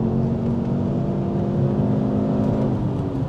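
A Ford Focus ST Mk2 engine pulls hard under acceleration, heard from inside the car as a loud, steady, rising drone with no talking.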